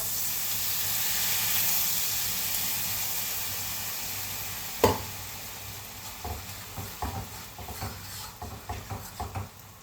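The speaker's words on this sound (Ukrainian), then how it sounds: "І виливаємо апельсиновий сок." Orange juice poured into a hot pan for cod in orange sauce: a steady close sizzle and hiss that eases, then a sharp burst followed by scattered stirring scrapes and spits.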